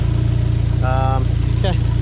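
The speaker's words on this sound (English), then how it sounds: "You can tell that it is a no balance chain shaft solid mounted engine" A solid-mounted engine without balance shafts idles with a steady, loud, rapidly pulsing low throb, and a voice speaks briefly over it twice.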